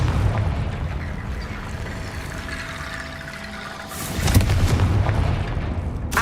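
A Confringo blasting spell from Hogwarts Legacy goes off with a booming explosion, a low rumble building and swelling into a loud, sharp burst partway through before fading.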